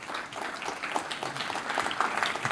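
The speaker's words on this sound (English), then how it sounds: "Let's give a big round of applause" A startup event audience at Google gives a presenter a round of applause, many hands clapping in a fairly quiet, continuous patter that holds steady for a couple of seconds.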